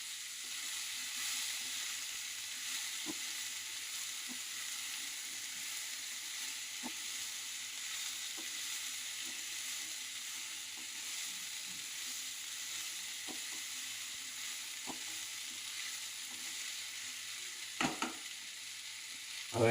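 Sprouted moong beans sizzle steadily in a hot pan, a dense, even frying hiss running throughout with a few faint utensil clicks and a louder clatter near the end, no voices.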